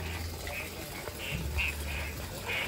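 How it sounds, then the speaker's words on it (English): Frogs croaking outdoors among giant rocks in Thailand, repeated mid-pitched calls pulsing every half second or so under a steady hum of insects and wind, with a low rumble underneath. "Hear all the frogs."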